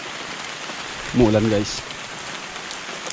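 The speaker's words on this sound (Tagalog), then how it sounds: "Umaambon guys pero maaraw umuulan." Light drizzle falls steadily outdoors under sunshine in a rural province, making a soft, even hiss throughout, while a voice briefly speaks partway through.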